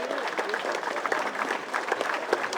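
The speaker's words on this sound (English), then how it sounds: "a round of applause for son of New Amsterdam, Cy Grant" An audience applauds at a Lions Club address in Washington DC, steady clapping from a crowd at moderate level, filling the whole moment without a break.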